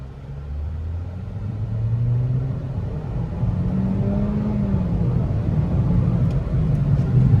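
A 2020 Toyota Corolla XSE with 91,000 miles accelerates hard on a test drive, its engine rising in pitch through successive gears, a strong interior whir and road rumble building steadily.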